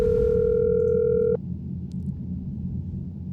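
Steady electronic phone ringback tone in the video game Ithaca, a loud continuous beep that cuts off abruptly, leaving a low room rumble and faint background noise.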